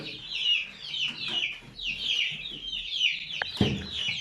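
High, rapid peeping from several chicks chirps continuously nearby, with a brief soft thump near the end.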